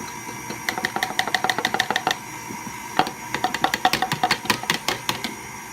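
An electric mixer whirs through banana bread muffin batter as flour is added, its beaters clattering against the bowl in a fast, uneven run of sharp clicks over a low motor hum, with a short pause midway.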